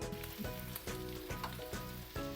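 Meat browning in a pan for pancit habhab, a steady close sizzle and crackle of frying with faint stirring scrapes, no voices.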